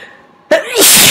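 After a quiet, faintly breathy lead-in, one big sneeze bursts out loud and close: a sharp inhaled catch, then a forceful noisy blast that carries on to the end.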